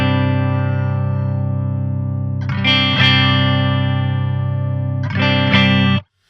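A heavily distorted electric guitar shaped with added harmonics in the JST ToneForge Misha Mansoor plugin, holding a loud sustained chord with two pairs of picked accents on top before stopping abruptly.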